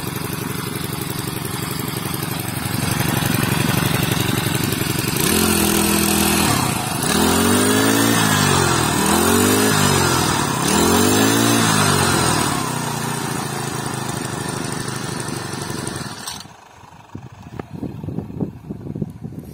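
A Dolmar MS 335.4U four-stroke brush cutter runs close by at a steady drone, revs up three times in smooth rising-and-falling swells, then settles back and cuts off near the end.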